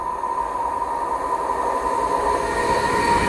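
An Avanti West Coast Class 390 train runs through Tipton station, its loud, steady rolling rumble carrying a sustained whine throughout and building slightly toward the end, with no talking.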